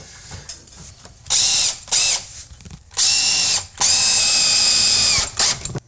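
Loud, close bursts from a power tool driving fasteners into LVL beams during a residential remodel, with several whirring runs of varying length separated by short ratcheting clicks and pauses.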